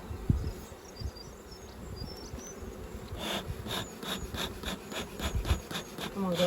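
Honey bees (Apis mellifera) at an open hive during an autumn varroa check give a steady close-up buzz, with a denser swell of wing hum in the second half.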